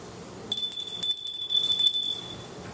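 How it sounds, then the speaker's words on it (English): A high, clear bell rings repeatedly in quick succession, bright tones sustaining and then fading out alone. "By ringing this bell"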